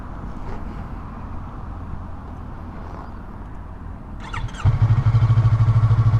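A 2019 Yamaha R3 motorcycle riding along, with steady wind rush at first, then the engine's loud, even drone rising in close and holding a steady pulsing tone.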